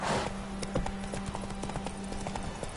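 Geralt's horse Roach trots in The Witcher 3 video game, a steady, close clip-clop of hooves in even rhythm with jingling tack over a faint ambient drone.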